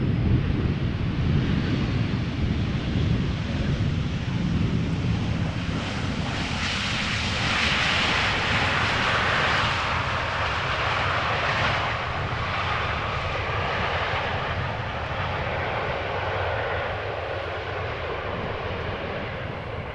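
A fixed-wing airliner arriving at Amsterdam Schiphol Airport, its loud engine roar swelling and holding steady for a long stretch, with gusty wind buffeting the microphone throughout.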